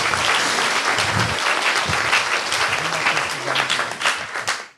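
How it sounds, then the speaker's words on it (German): Lively audience applause at a youth hackathon final presentation in Cologne, dense clapping from a crowd, with a few voices murmuring underneath, before it fades out at the end. "dafür auch einen Applaus für die schönen Bilder."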